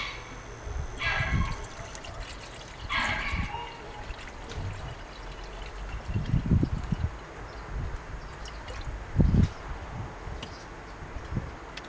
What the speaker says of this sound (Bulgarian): Сега ще налея водата вътре и ще рестартирам водородната клетка.